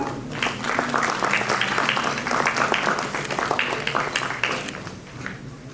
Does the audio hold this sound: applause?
yes